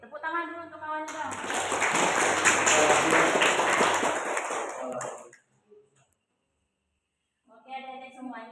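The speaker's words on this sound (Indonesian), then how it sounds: "tepuk tangan dulu untuk kawannya dong" A group of children at a Quran learning class applauds a classmate, with several seconds of loud, dense clapping between an adult's speech before and after.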